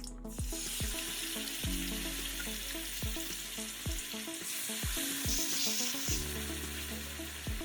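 Chicken pieces dropped into hot ghee for butter chicken crackle and sizzle loudly and steadily, with repeated clanks and scrapes of a utensil against the pan, no voices.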